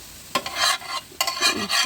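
Dudh chapti fries in a pan and is stirred, giving two close scraping strokes over a soft sizzle, loud and with no voices.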